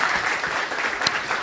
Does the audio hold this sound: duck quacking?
no